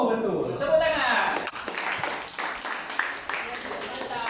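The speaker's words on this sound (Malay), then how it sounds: "Tepuk tangan." Classroom of students clapping hands during an Islamic education lesson, a burst of quick, irregular claps from a small group at moderate distance, starting after a voice speaks and continuing for about three seconds.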